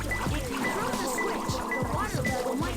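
Rising water in a Sonic Adventure 2 stage: steady liquid gurgling and trickling under game music and chimes, moderately loud and continuous, with someone talking over it.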